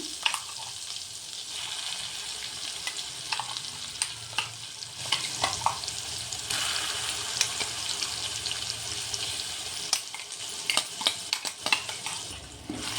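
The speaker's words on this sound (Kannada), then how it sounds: "ಈಗ ನಾವು ಇದನ್ನು ನೀಟಾಗಿ ಎಣ್ಣೆಯಲ್ಲಿ ಚೆನ್ನಾಗಿ ಬಾಡಿಸ್ಬೇಕು" Ground wild gooseberry masala paste sautés in hot oil with a continuous close hiss and bubbling fry, punctuated by repeated spatula scrapes and stirring knocks, no voices, while gooseberry chitranna rice is being made.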